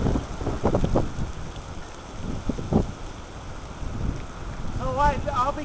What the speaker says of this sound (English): And here comes another one. That's good wind gust.